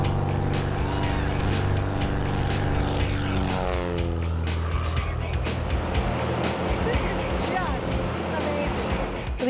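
Loud propeller aircraft engine drones steadily inside a small plane climbing before a skydive, with rising and falling engine tones and rattling cabin noise throughout.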